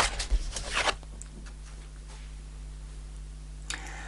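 A tarot card slides out of the deck with a short papery rustle near the start, then a faint quiet lull with a steady low hum and one small flick near the end, all without talk.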